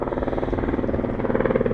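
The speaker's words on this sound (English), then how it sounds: "as the helicopter rumbles overhead" A helicopter rumbles overhead, its rotor producing a loud, rapid rhythmic chop over a steady engine drone, close and unbroken for the whole stretch.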